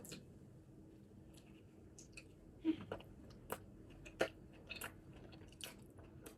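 Someone chewing a burger up close, soft wet bites and squishy mastication with a few sharper crunchy clicks scattered through otherwise quiet moments.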